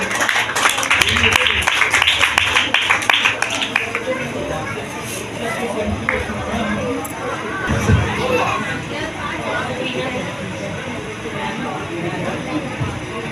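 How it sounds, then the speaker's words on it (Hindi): Crowd in a church at a Christmas celebration, clapping and cheering densely for several seconds, then fading into general chatter and children's voices with a brief thump. "आप सबकी भरपूर तालियों में इमरान भाई।"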